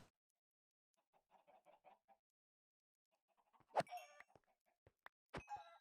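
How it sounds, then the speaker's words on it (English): Chickens cluck in Minecraft: soft, scattered clucks early on, then louder, sharper bursts of clucking near the end, with quiet gaps between them. "There's just chickens everywhere."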